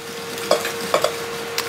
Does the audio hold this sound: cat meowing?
no